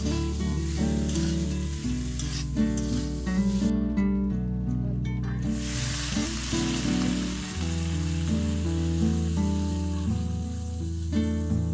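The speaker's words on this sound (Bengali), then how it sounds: "আদা জিরে বাটাটা অ্যাড করে দিল। এবার সবগুলোকে ভালো করে নাড়াচাড়া করে নেবে" Ginger-cumin paste and spices sizzle steadily in a pan while being stirred for a koi fish curry with bottle gourd stems; a continuous frying hiss runs under background music throughout.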